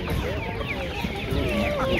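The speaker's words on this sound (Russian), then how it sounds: "Курочки сегодня есть." Hens clucking and chattering continuously at a poultry market fair, close and fairly loud with a busy crowded background.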